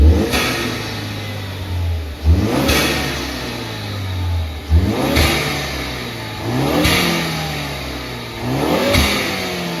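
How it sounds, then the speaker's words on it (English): A Ford ST with a 2-litre turbo engine of roughly 250 bhp revs hard in repeated bursts, each rise in pitch followed by a drop, with strong induction noise. It is loud and close, with no voices. "We just get a bit more induction noise."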